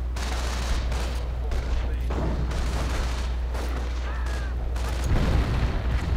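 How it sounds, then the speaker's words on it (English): A grenade bursts in a World War II strategy game battle amid a dense, rumbling wash of distant gunfire and artillery, with a low constant drone and scattered booms throughout. "nice grenade"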